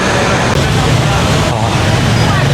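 Busy city street crowded with cars and motorbikes, a loud continuous wash of engine and road noise close by, with faint crowd chatter mixed in.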